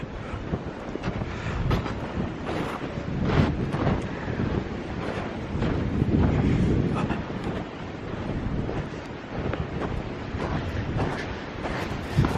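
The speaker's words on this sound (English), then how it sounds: "that wind does not want to quit. It's just been blowing steady all day long" Strong, steady wind blows over a snowy landscape, a dense continuous roar buffeting the microphone with slight gusting swells and no pauses, loud and close throughout with no talk.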